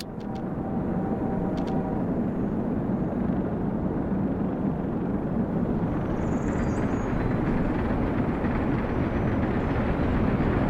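A train in the Soviet-era city-building game Workers & Resources: Soviet Republic rumbles steadily at close range, a continuous loud low roar with no one talking over it.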